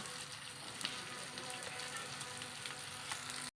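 Mullu vala fish frying in a pan over medium heat with crushed chilli, a steady dense sizzle and crackle with scattered pops, close and continuous, cutting off abruptly at the end.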